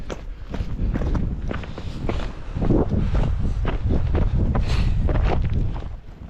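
Regular crunching footsteps pace steadily downhill through snow on Dakota Hill, close to the microphone, with cold wind buffeting in the background.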